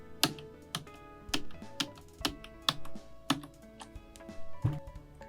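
Computer keyboard keys are pressed in short, uneven bursts of sharp, close clicks for shortcut presses, with brief pauses between groups and no voice heard.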